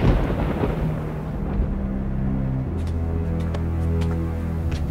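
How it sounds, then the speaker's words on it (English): Loud, deep rumbling thunder from a lightning strike in a fantasy TV series battle scene, a heavy sustained roll with crackling bursts later on, with no speech. "My father pierces the sky with lightning."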